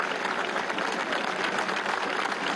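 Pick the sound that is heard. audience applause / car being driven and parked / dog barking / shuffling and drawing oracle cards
audience applause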